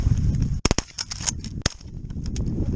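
Several sharp shotgun blasts ring out during a snowy cornfield duck hunt in a South Dakota blizzard, a quick burst of three close shots followed by one more after a pause, over wind noise.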